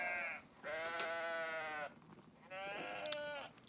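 Sheep bleat in two long, wavering calls separated by a short pause, moderately close and fairly faint against quiet outdoor background, with no talking.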